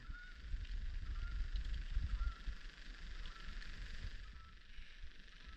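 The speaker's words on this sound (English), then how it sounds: "As we have a flock of birds go by that you can't see because of the cloud cover." A flock of geese or similar fowl honks faintly while passing overhead, unseen above low cloud on a rainy day, scattered distant calls over steady rain hiss.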